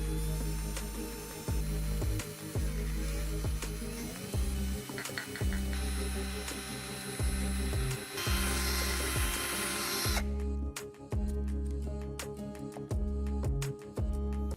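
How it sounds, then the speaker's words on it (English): A handheld power drill fitted with a whisk runs continuously, mixing niacinamide powder into a homemade lotion, its motor whirring loudly with repeated bursts and pauses as the speed changes. "drastic times called for drastic measures, so out came the power drill"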